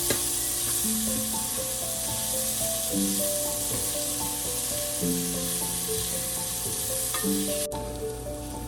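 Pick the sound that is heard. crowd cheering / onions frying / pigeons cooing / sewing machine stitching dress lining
onions frying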